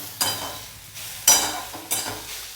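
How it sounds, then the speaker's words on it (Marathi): Spatula stirring a traditional village-style vegetable dish with salt and coriander in a hot pan, three scraping strokes over a soft sizzle, close and fairly loud, no talk. "आता हे एकसारखं असं हलवून घेऊया"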